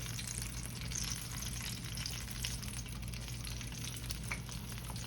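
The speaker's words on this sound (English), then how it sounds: "we're gonna start frying these things off." Constant sizzling and crackling of blueberry fried pies frying in hot oil, steady and fairly quiet, with a low hum underneath and no voices.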